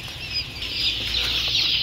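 Chickens at a poultry seller's stall cluck and flap their wings, a busy, steady farmyard commotion that stays close and fairly loud, with no talk.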